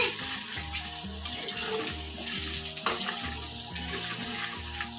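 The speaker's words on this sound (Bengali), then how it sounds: "আলুগুলো ফ্রাই করে নিচ্ছি, একটু হালকা আছে ফ্রাই করে নেবেন আলুগুলোকে।" Potatoes fry lightly in hot oil for mutton biryani, a continuous bubbling sizzle with occasional stirring knocks, heard close with no speech.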